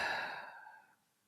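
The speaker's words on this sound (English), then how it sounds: "Let's take a deep, slow breath in through the nose, exhaling through the mouth." A single slow, deep breath during a calm relaxation exercise, close and soft, easing off and fading into near silence by the end, with no talking.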